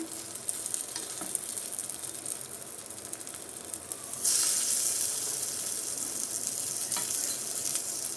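Sweet corn ponganalu batter fries in oil in a paniyaram pan, a steady close sizzle that suddenly swells into a louder, brighter hiss partway through and keeps going, with faint utensil taps and no talking.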